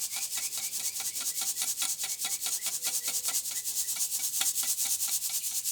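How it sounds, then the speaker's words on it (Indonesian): Crushed palm kernel shell charcoal powder is shaken through a sieve in a steady, rapid rhythm of close, rasping scrapes that repeat several times a second with no voices. "Setelah kita tumbuk ya, kita ayak, kita ambil yang paling halus ya"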